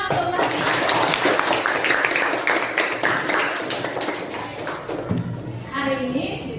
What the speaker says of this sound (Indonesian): tepuk tangan untuk Wafi.